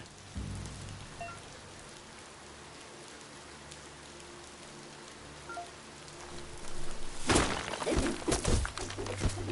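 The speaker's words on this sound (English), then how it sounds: "Might as well just dive in that rain and get wet." Steady rain falling in the action game Biomutant, a soft continuous patter that thickens into heavier drumming with splashy hits toward the end, near and moderately loud, no voices.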